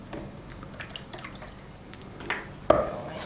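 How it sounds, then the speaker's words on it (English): Six raw eggs poured from a cup into a green bowl, a soft wet slop and splash landing near the end after quiet handling. "she's going to grab the green bowl and pour the eggs into the bowl"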